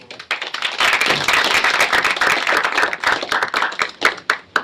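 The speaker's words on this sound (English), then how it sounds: "let's give a round of applause for Bill" A small audience claps after a talk, a close, uneven patter of individual hand claps swelling and dipping in bursts, with distinct claps standing out as the applause thins toward the end.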